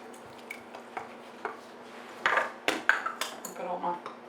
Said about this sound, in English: We are just going to mix that together very well.